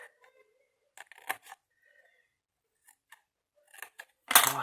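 Scissors snip the corners off small paper squares for an advent calendar craft, a few short quiet cuts spaced apart, then a louder rustle of paper at the end.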